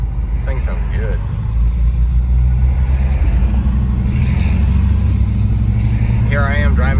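A Chrysler 300 with a six-cylinder engine and a Flowmaster exhaust rumbles steadily and loudly nearby, a deep continuous drone that runs throughout while people talk over it.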